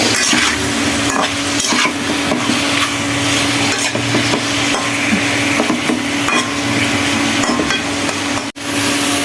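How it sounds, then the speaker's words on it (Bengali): Steady scraping and clattering of a spoon stirring and sautéing food in a pan, with a constant sizzling hiss underneath, loud and close for several seconds with no voices. "ভালো করে নাড়াচাড়া করে কষিয়ে নেব"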